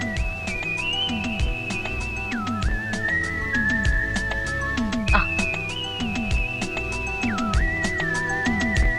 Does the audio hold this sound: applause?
no